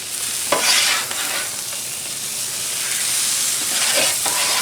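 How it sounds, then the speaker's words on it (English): Sausage sizzles and crackles loudly on a Blackstone griddle, a steady close frying hiss with a couple of brief stirring scrapes, no voices over it. "let's get the sausage going in here too"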